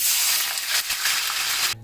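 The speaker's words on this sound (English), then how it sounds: "Now we're gonna add water to the fish." Water poured over seared fish in a hot oiled wok bursts into a loud, harsh sizzle and hiss that continues steadily before cutting off abruptly, with no talk.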